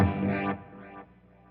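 An electric guitar chord played through delay and reverb into a compressor, giving a squashed initial hit that swells back as the compressor releases, pumping twice before fading, close and alone.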